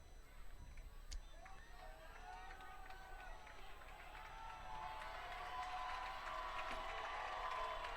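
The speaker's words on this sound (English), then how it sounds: "crowd getting into it." Crowd at a varsity high school football game roars and cheers steadily, swelling louder over several seconds as a goal-line play unfolds, with a commentator's voice audible over the noise.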